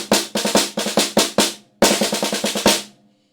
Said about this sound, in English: when I'm playing the traditional 32nd note roughs, they're going to sound like this in the solo.